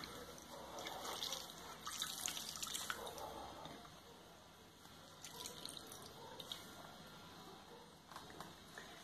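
Water drips and trickles from moss squeezed by hand for a kokedama, a faint, wet patter and splashing that rises and falls over several seconds, quiet and close, with no speech.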